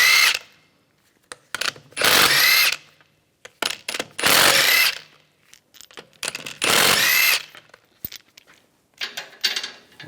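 Impact tool bursts in short repeated runs removing 17mm lug bolts from a front wheel of a 2010-2014 Volkswagen GTI, close and loud, with clicks and handling noises between bursts.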